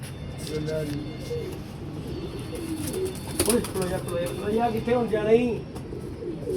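A pigeon, a female bird in poor condition from the summer heat, coos softly while held in the hand, its low rounded calls rising and falling close by over steady background noise, with someone talking over it.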